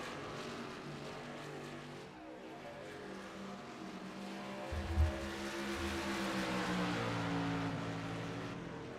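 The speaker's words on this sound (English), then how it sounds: "The lead cars are coming off pit lane." Race cars in a racing video game pull out of the pit lane at Chicagoland Speedway, engines droning in steady, layered tones that rise in pitch as they accelerate, moderately loud, with a brief thump partway through.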